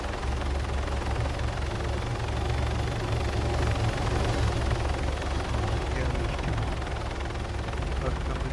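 A helicopter's steady rotor drone fills the scene in the game Arma 3, loud and continuous, with game-like rumble and distant bursts mixed in.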